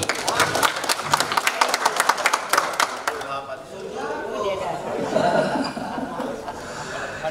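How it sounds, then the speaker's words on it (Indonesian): An audience applauds at a DPRD members' capacity-building session, a dense burst of clapping for about three seconds that then gives way to laughter and crowd chatter. "Tepuk tangan dulu."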